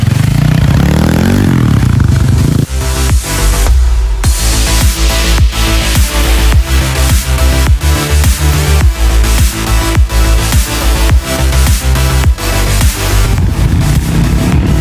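A new 50cc scooter with a four-speed manual gearbox on a short test ride, its small engine buzzing and revving in steady, rhythmic pulses, loud and close, with no talk.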